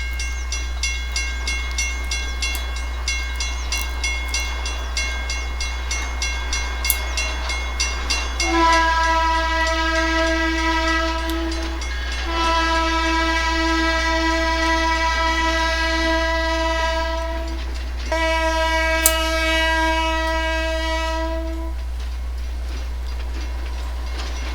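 A Conrail freight train with tank cars rolls past steadily with rumbling wheels, while its horn sounds in several long blasts separated by short pauses.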